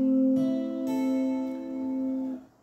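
A single guitar chord from a song, strummed once and left ringing steadily for over two seconds before being cut off, clear and alone.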